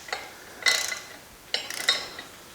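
Wrench clicking as it tightens a bolt on a Porsche 911SC crankshaft assembly during a track car engine build; three short bursts of metallic ratcheting, close and fairly quiet, with pauses between them.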